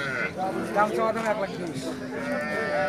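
At a busy cattle market, a cow of a local breed lows in drawn-out calls close by, while people talk and the crowd murmurs all around.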